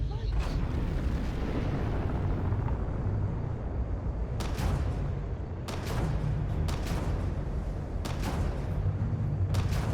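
Spaceship weapons firing in a Starfield space battle: a constant heavy rumble punctuated by several sharp, bursting blasts in the second half, loud and close.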